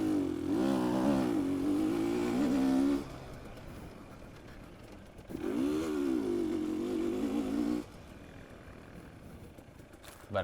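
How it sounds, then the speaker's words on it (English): A dirt bike's engine revs up and holds in two sustained bursts with a pause between, heard at moderate distance during a hare scramble race in the Open D class. "I hear Diego's bike accelerating"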